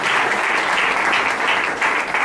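A church congregation claps together during a worship service, a full, continuous burst of many hands at close range with no talk over it.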